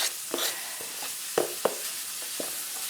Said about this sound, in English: So onions go in this pan with the bacon.